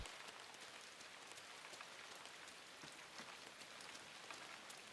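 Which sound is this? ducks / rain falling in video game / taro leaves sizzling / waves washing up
rain falling in video game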